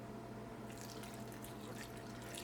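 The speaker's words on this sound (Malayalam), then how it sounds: "ആദ്യം നമുക്ക് തേങ്ങ മുങ്ങിക്കിടക്കാൻ ആവശ്യത്തിന് വെള്ളം ചേർക്കാം" Water is poured onto grated coconut in a grinder jar while making white coconut chutney, giving a steady close splashing hiss that starts after a brief quieter moment and runs to the end.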